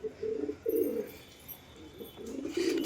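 A pet pigeon coos in soft, low repeated phrases, several rolling calls in a row, fairly close, with faint background noise and no talk.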